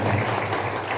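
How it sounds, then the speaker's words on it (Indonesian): Applause from an audience at a junior graduation ceremony of an Islamic madrasah, a dense steady patter of clapping filling the whole second without any voices. "Tepuk tangan dulu."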